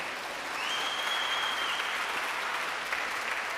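Steady applause from a concert audience for the Jazz at One series in a chapel, filling the room evenly with dense clapping and no voices, holding a uniform level throughout.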